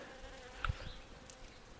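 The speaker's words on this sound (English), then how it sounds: "The honeybees making their apple blossom honey." Honeybees buzz around a blooming apple tree outdoors, a faint, steady hum with a brief closer pass of a single insect midway.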